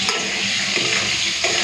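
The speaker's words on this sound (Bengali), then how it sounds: "পটলগুলোকে পুরো লাল লাল করে ভেজে নিয়েছি" Pointed gourd (potol) pieces fry in hot oil, giving a steady, dense sizzle with soft stirring scrapes mixed in. The sound is close and continuous, with no talking.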